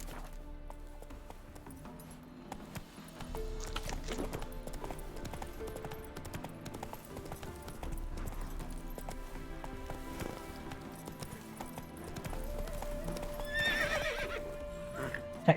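Geralt's horse Roach gallops with continuous hoofbeats and neighs in The Witcher 3: Wild Hunt next-gen edition, all under a busy game soundscape with faint voices.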